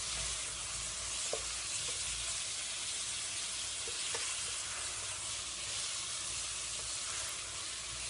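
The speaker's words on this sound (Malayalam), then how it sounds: "ഇനി ഇതിലേക്ക് ചിക്കൻ ഇട്ട് കൊടുക്കാം. നല്ലപോലെ ഒന്ന് യോജിപ്പിച്ചെടുക്കാം." Chicken pieces being stirred into a vegetable korma in a hot pan, giving a steady, close sizzle with occasional soft scrapes of the spoon, continuous throughout with no voices.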